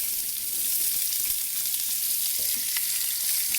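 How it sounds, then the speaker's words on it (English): Steady, crackling sizzle of onions frying in hot bacon grease, continuous and close, with a few faint stirring scrapes and no voices. "You can hear that sizzle. That's the moisture coming out of those onions as they hit the bacon grease."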